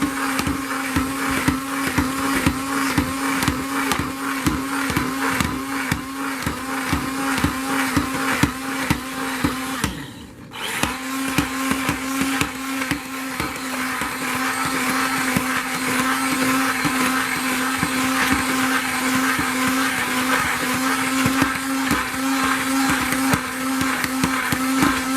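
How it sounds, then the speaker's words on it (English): A stick blender runs continuously through hot process soap batter with a loud, steady motor whine and churning. It pauses briefly near the middle, then starts again, close and alone without talk. "So I'm going to stick blend again, and it will volcano again."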